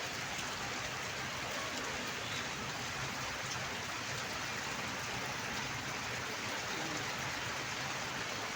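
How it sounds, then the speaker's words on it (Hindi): Heavy rain pours down in a rural Indian village, a constant broadband hiss of drops on surfaces, steady and fairly quiet, with no pauses or voices. "खूब जम को हो रही है बारिश।"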